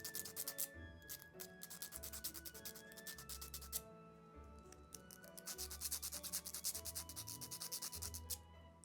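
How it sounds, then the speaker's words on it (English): Small sandpaper rubbing over a miniature witch's cottage model, a steady run of fine, close scratchy strokes in repeated bursts with brief pauses, quiet and alone. "now I get to use my little sandpaper and make sure everything's nice and smooth."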